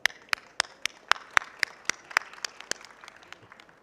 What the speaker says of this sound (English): Give us applause to yourself and to the wonderful team